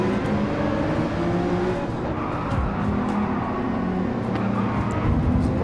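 Race cars roar in Gran Turismo 7, including an Audi sliding and slipping: a steady, loud wash of engines and tyre noise with no voices.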